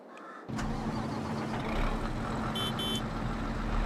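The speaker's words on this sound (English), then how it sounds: "Once again, custom sounds for the engine." The custom engine of a Fendt Katana 850 forage harvester in Farming Simulator 22 starts up and settles into a steady mid-pitched drone, with a pair of short electronic beeps over the running engine.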